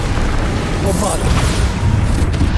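A Bombarda spell blast in the Hogwarts Legacy video game, a deep rumbling boom with a bright burst partway through, under continuous game noise and a voice.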